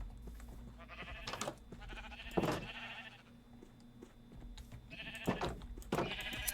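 Sheep in a Minecraft-style video game bleat in two loud, wavering calls a few seconds apart, each a shaky drawn-out baa, standing out clearly over a low, quiet background.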